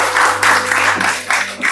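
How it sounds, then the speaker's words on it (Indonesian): A short burst of group applause from a fifth-grade classroom after a group presentation, several people clapping together at close range, swelling and fading in waves for a couple of seconds. "Tepuk tangan dulu."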